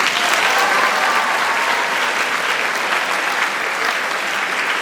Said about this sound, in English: give yourselves a round of applause for doing that